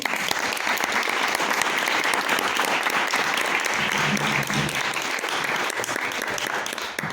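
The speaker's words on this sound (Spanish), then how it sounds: "pido un gran aplauso de favor" Steady, loud applause from a crowd at a tribute to Comandante Lucio Cabañas, honoring a comrade named David Cabañas, sustained without a break.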